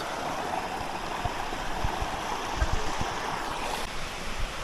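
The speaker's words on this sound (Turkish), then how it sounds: "Evet arkadaşlar şimdi mini şelalemize geldik." Rushing water from a small waterfall in the hills pours continuously in a dense, even roar, heard up close with no voices.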